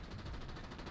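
Enemy machine-gun fire in the tank combat game War Thunder, a dense unbroken burst of rapid shots lasting under a second, loud and close, with no voices.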